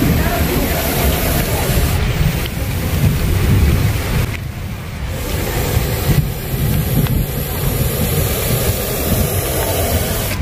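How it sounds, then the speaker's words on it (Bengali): Heavy rain pours down in a loud, dense, steady roar with low rumbling that fits thunder, and a voice is faintly heard beneath it. "খুব জোরে বৃষ্টি এসে গেছে"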